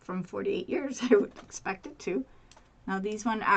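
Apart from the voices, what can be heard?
No everyday noises stand out.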